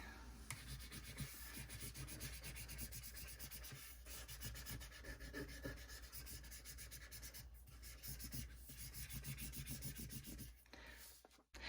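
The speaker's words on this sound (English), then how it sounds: "take that backing piece, put it over it like this, and then just again burnish it on there" A decal being burnished onto a garden stake through a protective backing sheet, a faint, continuous close rubbing and scratching with short scraping strokes.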